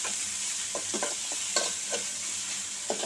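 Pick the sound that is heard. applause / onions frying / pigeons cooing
onions frying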